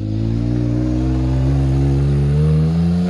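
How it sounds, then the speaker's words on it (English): A Ford Maverick pickup truck pulls away in 4x4, its engine rumbling loud and steady, the pitch rising slightly as it accelerates, heard close with no talking. "Oh, driving off into the sunset."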